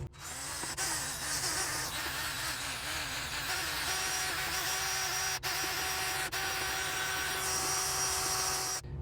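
A power drill runs steadily on its slowest setting, mixing material in a bucket, with a continuous whirring drone and a couple of brief dips.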